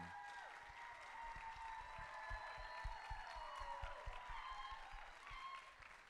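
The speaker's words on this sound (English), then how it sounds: "Can we give a round of applause and congratulations to Ms. Ronya-Lee Anderson." Audience applause at a National Dance Day award presentation, steady scattered clapping in a reverberant hall with a melodic tone ringing over it.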